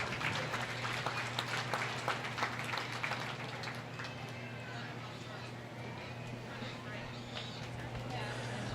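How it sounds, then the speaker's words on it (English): An audience at a county fair swine show claps steadily, a busy patter of hands that is loudest at first and gradually thins, with a low hum underneath. "Can I get a round of applause for them, please?"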